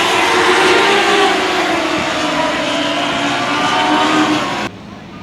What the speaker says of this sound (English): I know the cars are loud